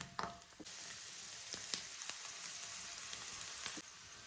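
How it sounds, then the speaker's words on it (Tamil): Garlic sizzles in a little oil in a pan, a steady close frying hiss with a few soft stirring taps over the top. "கொஞ்சமாக எண்ணெய் விட்டு பூண்டு போட்டுட்டேன்."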